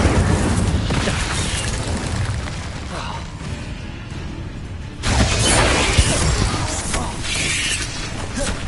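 An Incendio fire spell cast in Hogwarts Legacy bursts with a crackling, shattering whoosh, loud and dense, then a second flare of roaring noise midway, with game sounds and a voice around it.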